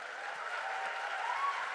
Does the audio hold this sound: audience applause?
yes